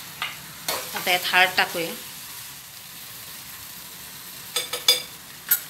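Ginger-garlic paste and chillies sauté in a pan for batata vada, with bursts of sizzling and stirring scrapes early on and again near the end, and someone speaks briefly between them.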